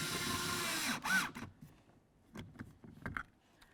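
A power driver runs a small Torx screw into a 2009-2020 Dodge Journey door handle, with one long whirring burst, then a short second spin and a few scattered clicks and taps up close.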